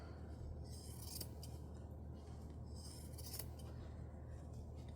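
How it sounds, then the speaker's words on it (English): Scissors snip steadily through paper ephemera for a junk journal, a run of crisp close-up cuts in two bursts over a constant low hum, with no voices. "Let me get my better scissors."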